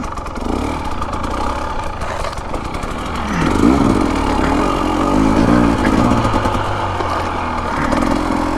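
A 2025 Husqvarna TE250 dirt bike ridden on desert trails, its engine revving up and down close by with clattering and rattling over rough ground, continuous throughout.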